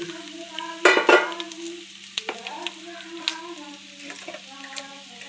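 Pieces of pointed gourd (potol), fried beforehand, are tossed into a pan with masala and Kashmiri chili powder, giving a loud sizzle, then steady frying crackle with clinks and scrapes from a stirring spoon.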